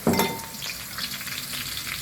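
Chili stir-fried in a pan, sizzling steadily up close with a sharp scrape of stirring at the start, the crackle continuing evenly throughout.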